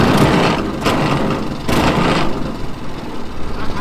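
A brand-new mud motor on a Mud Skipper boat fires up and idles loudly and close by, a steady rumbling engine with two brief surges, and a voice faintly heard at the end.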